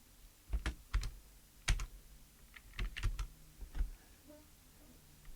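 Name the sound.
typing on a computer keyboard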